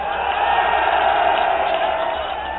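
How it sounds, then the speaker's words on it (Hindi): Crowd at an election rally in Bijnor cheering and whooping in a sustained roar, a dense mass of voices at steady loudness that eases slightly toward the end. "ताली बजाओ उस बात पे।"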